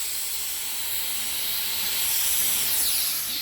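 Pressurized gas hisses steadily as it purges oxygen from a Fermzilla fermenter during home brewing dry hopping, a loud continuous close rush that swells slightly toward the end.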